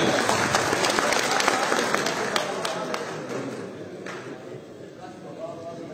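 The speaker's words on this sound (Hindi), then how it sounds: "तालियां" Audience applause at a Punjabi poetry recital (mushaira) in Islamabad: steady clapping that gradually thins out over several seconds, with talk continuing over it.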